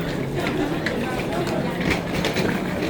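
A metro train runs along its rails on the way to Laleli, a loud, steady rumble with faint rhythmic clatter that fills the whole moment from inside the carriage.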